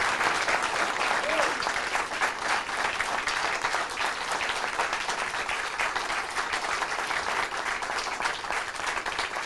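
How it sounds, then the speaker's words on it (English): A crowd applauds Chris Kluwe at a televised event, dense continuous clapping throughout, loud and sustained with some voices mixed in. "please, a round of applause for Mr. Chris Kluwe"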